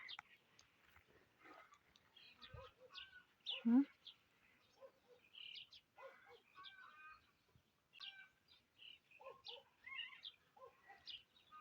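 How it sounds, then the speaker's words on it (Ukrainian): Starlings calling in a rural garden, scattered chattering and whistled calls in short bursts, fairly faint and close, with a few louder notes and no talking. "Шпаки забезпокоїлися, бо я вийшла у садок."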